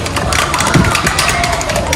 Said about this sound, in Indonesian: Kasih tepuk tangan dulu buat kelompok 1